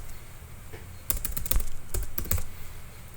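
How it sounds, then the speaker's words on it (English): Keys clatter on a computer keyboard in bursts of quick, close taps with short pauses between them, over a steady low hum. "I'm just going to type those names in here."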